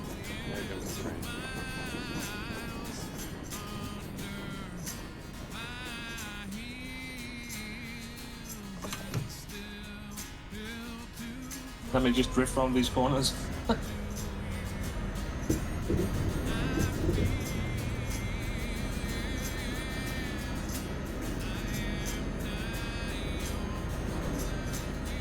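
A train rumbling past in a truck-driving video game, a long mechanical rush that swells midway, with engine noise and a person talking alongside.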